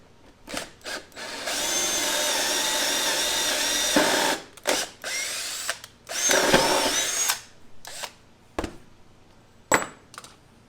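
A power drill runs steadily for a couple of seconds while boring a hole for 1/2 inch all thread, then stops and restarts in several shorter bursts, close and fairly loud, with brief pauses between.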